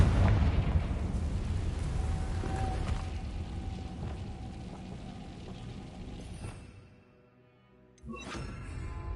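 A Confringo blasting spell explodes in a Harry Potter video game: a sustained roaring burst rumbles for several seconds, fades almost to silence, then a second blast erupts.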